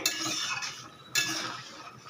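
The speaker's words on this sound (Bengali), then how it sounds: "এর মধ্যে দিয়ে দেব ভেজে রাখা চিংড়ি। দিয়ে একটু নাড়াচাড়া করে" Metal utensil scraping and clinking against a pan while stirring fried prawns into a taro curry, in two bursts, with a soft sizzle between; close, no talking.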